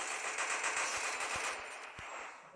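Rapid automatic gunfire from a sniper-type weapon in a mobile video game, a dense run of shots over roughly two seconds that fades slightly toward the end, with no talking.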